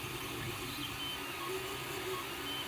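An Ender 3D printer running an ABS print with the nozzle at 235 and the bed at 110 degrees Celsius. A steady low whirr of fans and stepper motors hums close by, with faint tonal whines and no speech.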